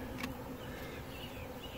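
Honey bees swarm around a trap frame laid on the ground, a steady low insect drone filling the scene close by, with no voices.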